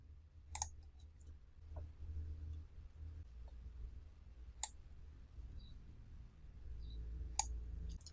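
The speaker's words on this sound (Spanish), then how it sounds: "Hagamos clic en el segundo." Sharp computer mouse clicks while using Excel spreadsheet software, three distinct isolated clicks spaced a few seconds apart over a low background hum, close and crisp.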